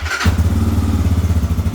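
A Lifan KPX 250 motorcycle engine catches from cold after a few days unused, in neutral, then settles into a loud, close, steady idle with an even, rapid putter.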